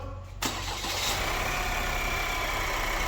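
An Opel Astra J 1.6 CDTI diesel engine (B16DTH) with a timing chain noise turns over and settles into a steady, loud idle that rumbles on without a break.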